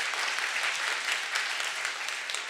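Audience at a Korean literature-week poetry program claps steadily and densely for about two and a half seconds, a continuous even wash of hand claps with no voices over it.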